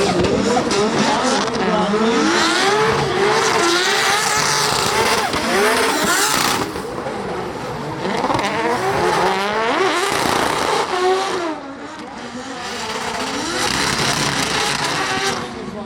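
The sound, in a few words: drifting race cars engines revving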